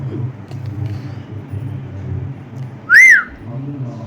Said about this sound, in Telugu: నీకు వచ్చా విజిల్ వేయటం?